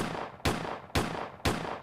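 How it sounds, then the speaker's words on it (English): Three loud gunshots on a quiet London street at night, each a sharp blast about half a second apart with a ringing tail, with no voices. "7 gunshots."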